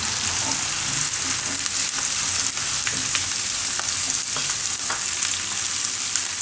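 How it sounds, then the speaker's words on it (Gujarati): Carrots hit a hot frying pan for carrot pea pulao, giving a steady, close, dense sizzle with faint stirring scrapes that runs unbroken throughout. "આમાં આપણે હવે ગાજર નાખી દઈએ"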